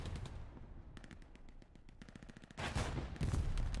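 Rapid automatic gunfire from teammates in the Hell Let Loose war game, bursts of close sharp shots with a brief gap of distant shooting between them, getting heavier and louder toward the end.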